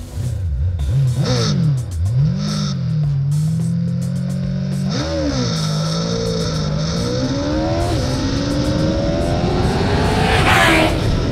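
An older Honda Hornet motorcycle with a CBR-based engine revs hard toward 13,000 rpm, a loud, continuous engine roar whose pitch climbs steadily through the gears, close up.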